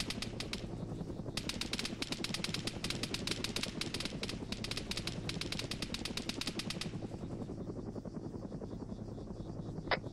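Automatic gunfire in the military shooter game Arma 3 during an Altis Life roleplay shootout, rapid bursts of closely spaced shots that rattle on for several seconds and then give way to quieter background ambience.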